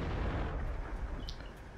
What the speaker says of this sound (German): Nein, er hat uns einen Schuss verpasst. Und zwar einen ziemlich genauen.